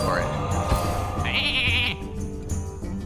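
Sheep bleats from a polymorph spell in the card game Hearthstone, a quavering cartoonish bleat rising over busy game music and effects, with talking present.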